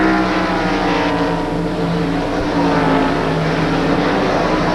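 Stock race cars in close, bumper-to-bumper traffic on a road course carousel turn, a dense, loud roar of engines sustained throughout with slight swells as the pack passes.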